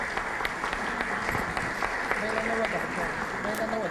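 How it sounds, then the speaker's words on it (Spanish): Applause from attendees at a neighbourhood prize draw in Miraflores, a continuous patter of clapping with a voice speaking over it and faint tones in the background. "Un aplauso para los ganadores"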